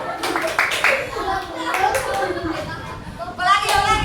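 A group of Indonesian children perform the tepuk lopek clapping chant, sharp rhythmic hand claps mixed with their chanting voices, close and lively, with claps in small bursts.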